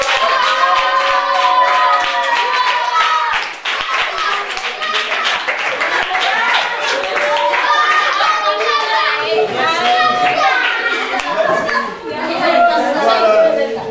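Audience at a children's Christmas gathering claps and cheers while a gift is handed over, with rhythmic hand clapping under loud chatter and children's voices for the whole stretch.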